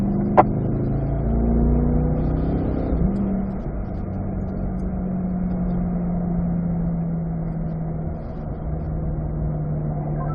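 A Corvette engine drones steadily on a race track, heard from inside the car, with a brief rise and a gear change partway through before settling into an even, lower engine hum.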